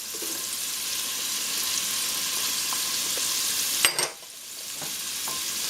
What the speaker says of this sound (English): my butter is melted, so I'm adding the mushrooms, the celery,